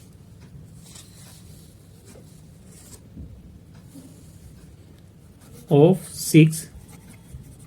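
Marker or chalk scratching on a board during a Class 10 maths lesson, a few faint strokes at first, then two louder bursts of writing near the end, under a teacher's steady speech.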